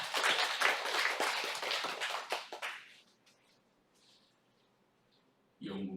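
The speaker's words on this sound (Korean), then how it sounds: "우리 하나님께 영광의 박수 하겠습니다" A church congregation applauds together, a dense burst of clapping that tapers off after about three seconds into near silence before a voice begins.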